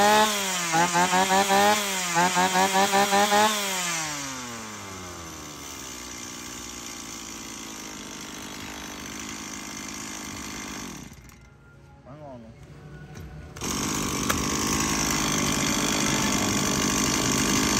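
A used Stihl 018c chainsaw, an imported secondhand unit running on an oil-rich fuel mix, revs loudly in a few quick bursts, then settles into a steady rough idle that briefly drops out before picking back up.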